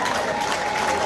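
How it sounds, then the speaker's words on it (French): An audience applauds prize winners at a ceremony, a brief, thick burst of steady clapping from a crowd, loud and unbroken. "Mesdames et messieurs, je vous demande de les applaudir"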